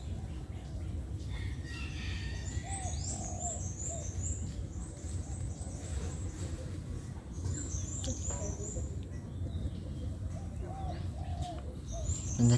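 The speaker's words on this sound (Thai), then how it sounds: "มีเสียงนกเสียงกาบ้างนะครับ" Birds calling and cooing at a Buddhist temple at the edge of rice fields on a calm morning, with occasional chirps and coos over a steady low background hum, fairly faint and distant.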